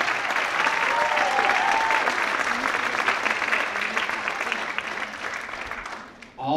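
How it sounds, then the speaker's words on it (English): Sustained applause from an audience at a school staff dance show, a steady dense wash of clapping lasting several seconds before tapering off at the end. "So we want to give them another round of applause, please."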